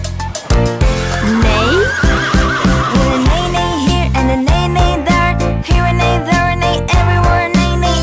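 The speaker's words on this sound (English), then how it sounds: "What does a horse say?" A loud horse whinny rises and falls over an upbeat children's farm song, with bouncy music and rhythmic clip-clop beats underneath.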